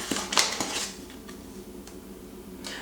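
A spoon scooping flour into a bowl: a few light clinks and scrapes at the start, then quieter occasional taps, close and alone with no talk.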